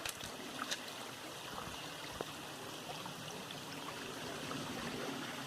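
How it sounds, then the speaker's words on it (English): A small stream on the Appalachian Trail in Shenandoah National Park babbles and trickles steadily, a soft continuous water wash with faint ticks and chirps above it. "Here's the brook and what I get to cross."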